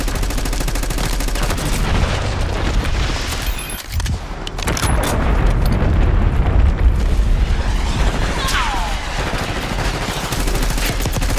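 A concussion grenade goes off in Call of Duty Black Ops 6 amid heavy battle noise, loud booms and rattling gunfire with a burst around the middle, continuous and close.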